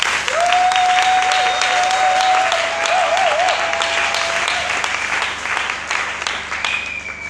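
A church congregation applauds loudly and steadily through a worship service, the dense clapping sustained at full strength before easing slightly toward the end, with a sustained electronic tone and some crowd noise running beneath it.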